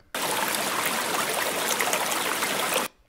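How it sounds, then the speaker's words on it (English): Steady flowing water, like a stream trickling and splashing, fills the clip as a continuous close rush with no other sounds, cutting off abruptly near the end. "the sound of water"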